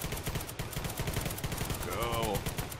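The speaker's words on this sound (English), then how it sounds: "I keep firing on that stairs." Rapid video game gunfire in Garry's Mod during a zombie horde fight, dense repeated shots in a steady burst, loud and continuous, with a voice briefly heard over it.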